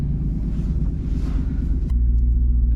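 A Dodge Charger R/T's 5.7 V8 rumbles deeply at close range through an aftermarket exhaust, a low throbbing exhaust growl that drops in pitch and grows heavier partway through.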